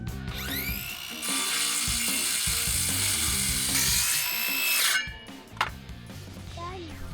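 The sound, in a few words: cutting off wooden fence posts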